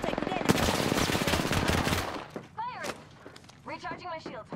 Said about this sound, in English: Making contact with enemy. Firing!